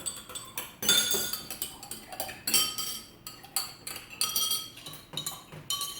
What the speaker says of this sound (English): we need to be stirring our cups to dissolve the sugar